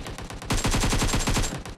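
A rapid burst of automatic gunfire rings out in PUBG Mobile, about ten sharp, evenly spaced shots fired close up and loud, preceded by fainter game ambience.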